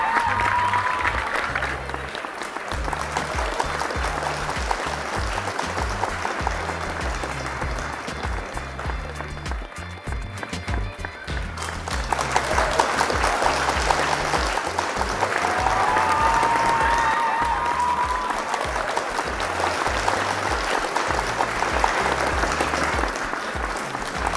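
An audience at a pigeon racing prize distribution in Pakistan gives sustained, loud applause that swells and carries on for over twenty seconds, with a rhythmic thumping beat and faint voices underneath.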